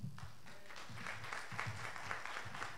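A conference audience applauds after a session, a sustained round of clapping with a soft, uneven pulse.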